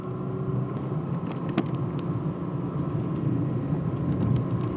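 Old car with a manually shifted transmission driving along, a steady low engine and road rumble running loud and continuous with slight rises as gears change.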